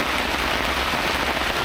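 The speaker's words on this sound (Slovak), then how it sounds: "A už ho leje." Heavy rain pours steadily onto the surface at a lake, a dense, loud, unbroken hiss with no voices.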